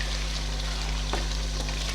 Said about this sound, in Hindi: ये मेरा जो चिकन है ये भी रेडी है, बस मैं इसे थोड़ा भूनूंगी